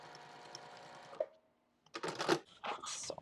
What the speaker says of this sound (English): So I'm just sewing, I'm following the bottom edge as my guide.